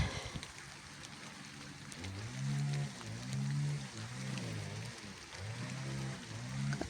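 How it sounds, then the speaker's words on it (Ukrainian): Steady rain patters softly in the background while a low, repeating tonal hum rises and falls several times, fairly quiet overall. "Капає дощ."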